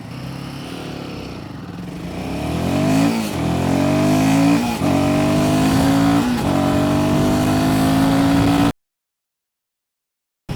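A Royal Enfield Himalayan 450 motorcycle accelerates hard from a standstill toward 100 km/h. The engine note climbs through several gear changes with brief dips between them, loud and close, then cuts off abruptly.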